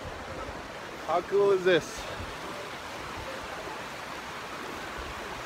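A river stream in Yosemite National Park flows on as a constant soft broadband wash of water, with a short spoken remark briefly rising above it.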